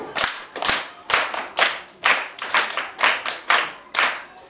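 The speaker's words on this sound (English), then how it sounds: "Clap hands for him." A classroom of students clapping hands together for a classmate, about ten loud, evenly spaced group claps in a steady rhythm, close by, with no talking.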